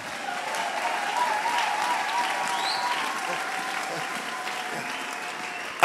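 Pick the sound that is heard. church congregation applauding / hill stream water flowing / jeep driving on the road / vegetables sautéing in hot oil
church congregation applauding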